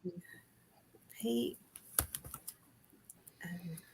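Light clicking keystrokes on a computer keyboard while someone types a word into a chat, scattered taps with brief bursts of speech nearby.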